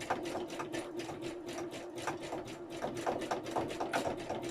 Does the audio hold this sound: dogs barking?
no